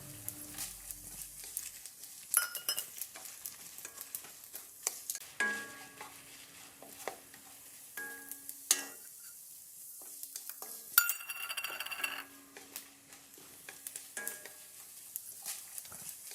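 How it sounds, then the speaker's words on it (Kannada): Urad dal, cumin, coriander seeds, dried chillies and curry leaves fry in a spoonful of oil while a spoon stirs and scrapes against the pan, a soft steady sizzle broken by intermittent clinks, close and fairly quiet. "ಉದ್ದಿನ ಬೇಳೆ ಜೀರಿಗೆ ಕೊತ್ತಂಬರಿ ಒಣಮೆಣಸು ಮತ್ತು ಕರಿಬೇವು ಸೊಪ್ಪನ್ನು ಒಂದು ಚಮಚ ಎಣ್ಣೆ ಹಾಕಿ ಕಂದು ಬಣ್ಣ ಬರೋ ತನಕ ಹುರ್ಕೊಳ್ಬೇಕು"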